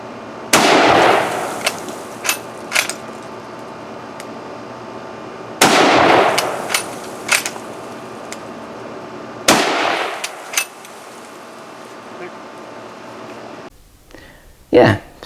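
A French MAS-36 rifle fires three loud, echoing shots spaced about four seconds apart, each with a long ringing decay, and there are small mechanical clicks between shots.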